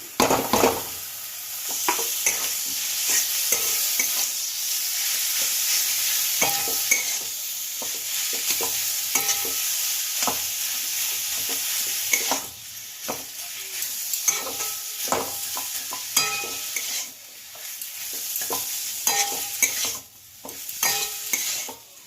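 Minced chicken sizzles in a pan for a chicken roll filling, a steady close frying hiss with repeated scraping stirs and light utensil knocks, quieter stretches in the second half, no one speaking.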